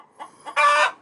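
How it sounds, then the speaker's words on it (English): A chicken in a back yard gives two short soft clucks followed by a louder, drawn-out squawking cluck, close and clear with no other sounds around it. "Is that you, Chicken Little"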